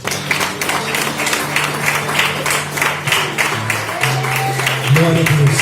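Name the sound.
congregation applauding in church service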